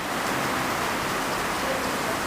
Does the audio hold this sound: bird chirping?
no